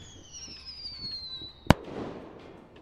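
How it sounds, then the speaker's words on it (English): A firework launches with a long descending whistle, then bursts in one sharp, loud bang followed by a crackling, rumbling tail outdoors; no one speaks. "That's a firework launching and exploding."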